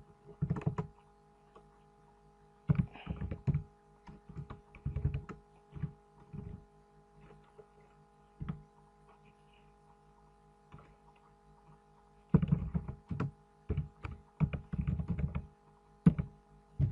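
Bursts of typing on a computer keyboard while entering PHP code, clattering keystrokes in quick clusters separated by pauses, close and fairly quiet over a steady low electrical hum.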